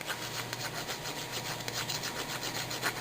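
A fingertip rubs back and forth across the raised foil ridges of a 2010 Topps baseball card, making a soft, scratchy rasping texture that is quiet and close, repeated in short strokes.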